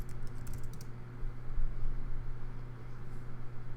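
Fingers tap rapidly on a computer keyboard, a quiet, steady patter of keystrokes over a low electrical hum with no voices.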